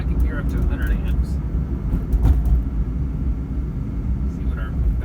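A hybrid car driven in second gear on a battery test drive gives a loud, steady low engine and road rumble that rises slightly as it accelerates, heard close from inside the cabin while someone talks over it.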